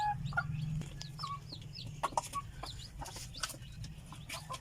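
Native chickens in coops cluck and chatter repeatedly at close range on a provincial farm, with overlapping short calls and a low background rumble throughout.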